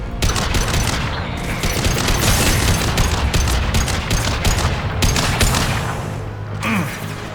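Sustained firefight in Mass Effect 2 on Insanity difficulty: rapid, overlapping bursts of gunfire crackle almost nonstop for several seconds, loud and near, easing off toward the end with a low rumble.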